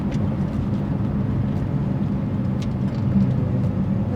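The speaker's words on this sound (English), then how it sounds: "here goes the cold start for the SVJ." Lamborghini Aventador SVJ idling after a warm-ish start with exhaust valves open, a steady low, rumbling drone heard from a short distance, continuous and even with no voices.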